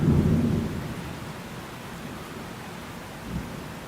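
Heavy rain from the early edge of Hurricane Idalia pours down at Walt Disney World in Florida, a steady loud hiss with a deep rumble of thunder at the start and another low thud near the end, no voices.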